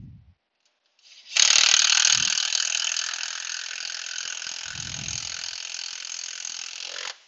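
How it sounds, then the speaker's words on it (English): A hand ratchet runs bolts down on a car's AC compressor, making a loud, close, continuous rapid clicking for several seconds after a brief pause, with a couple of dull knocks near the start and again in the middle. "I'll go ahead and run that compressor bolts down most of the way"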